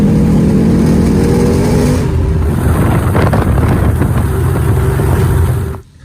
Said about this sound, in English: We're gonna cruise on back to the house now.